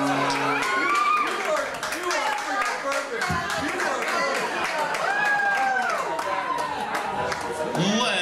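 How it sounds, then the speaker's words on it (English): Audience applause and cheering after a karaoke performance, steady clapping from a crowd with whoops rising through it, while a singer's or host's voice carries on over the noise for the full stretch. "Have a huge round of applause"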